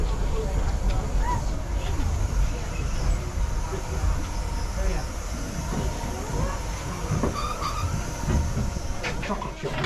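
A Vale of Rheidol Railway steam train pulls into Devil's Bridge station with a loud, continuous rumble and hiss, faint squeals and clanks over the top, steady throughout.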